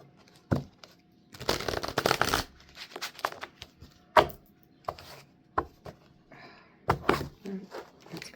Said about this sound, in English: Telling me one more shuffle.